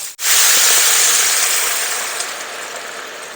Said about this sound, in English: now that we've got our meat all nice and brown, we're going to go in with our beef broth.